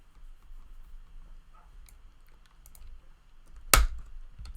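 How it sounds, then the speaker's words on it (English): Soft keyboard typing at a desk during a game development session, quiet scattered clicks leading to one sharp, loud enter-key strike near the end, then a low background rumble. "That noise you just heard was that damn enter key."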